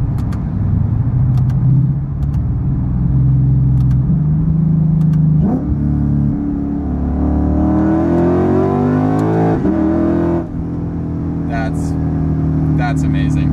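A modified Lexus IS F engine revs up hard, its exhaust roaring and climbing in pitch through the gears, loud and close, with a person talking underneath.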